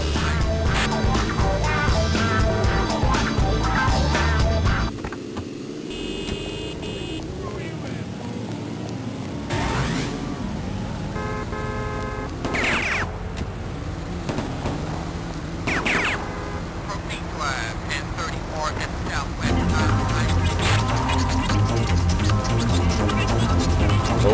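Car engine, tyre and horn sound effects come from the Grand Theft Auto video game running on Windows 95/98, played loud and continuous with shifting engine drones and tonal horn blasts, and brief talk now and then.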